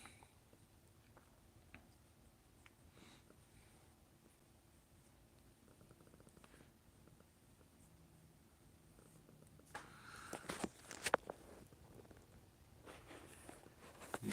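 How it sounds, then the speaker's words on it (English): A cat purrs faintly and steadily nearby, a soft continuous rumble under quiet room noise, followed by a few louder rustles and taps near the end. "Got a little bit of a purr."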